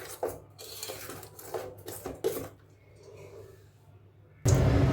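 A wok of ghee-dhokar dalna is stirred on the stove; a spatula scrapes and clatters against the metal pan in a run of uneven strokes, then a loud hiss of hot oil bursts in near the end.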